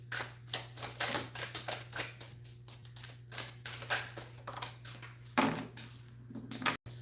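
Osho Zen tarot cards being drawn out and handled, a run of quick soft slaps and riffling flicks at close range, fairly quiet, with no one speaking.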